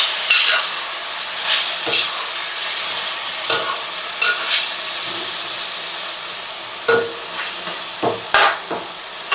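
Chicken with curry leaves fries in hot oil, a hissing, steamy sizzle broken by irregular bursts of loud crackling and spattering close by.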